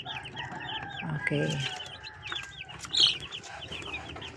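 Hens and a rooster in a backyard coop cluck and chatter in short, repeated calls, with one louder squawk near the end and someone speaking briefly nearby.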